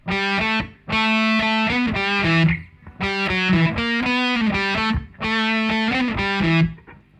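Two distorted electric guitars play a riff in unison, chugging through three repeated bursts of quick notes separated by brief gaps, loud and clear with no talking.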